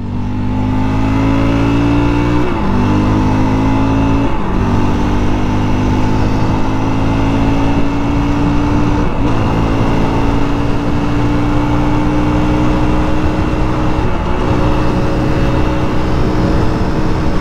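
Fantic Casa E 250 motorcycle engine at road speed around 7,000 RPM, a steady loud buzzing drone with rising pitch sweeps through brief gear-change dips, no talking.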